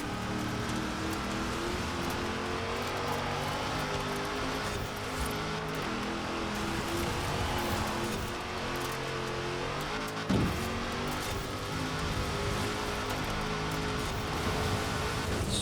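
Racing car engine in Forza Horizon 4 held near redline in third gear, a loud, steady high-revving drone with dense harmonics, briefly dipping around a gear change, heard alone without talk.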